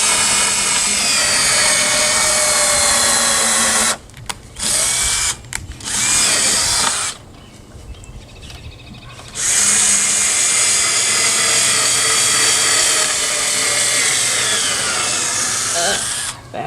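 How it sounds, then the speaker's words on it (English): A cordless drill boring pilot holes in wood whines loudly in long bursts, stopping briefly between runs, with a short quieter stretch midway before it spins up again. "I'm going to use that to drill some pilot holes in this side."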